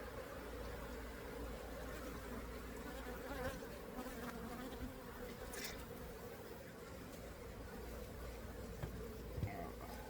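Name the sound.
bees buzzing at a beehive hit by small hive beetles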